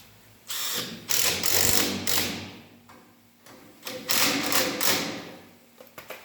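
Fuel line clamps being tightened with a power tool instead of a screwdriver, heard as two close, loud bursts of mechanical whirring and ratcheting separated by a brief pause.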